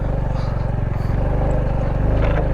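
A motorcycle engine labours steadily up a steep off-road track to a campsite in Ligao, Albay, its low rumble continuous and close throughout, with a slight shift in pitch partway through.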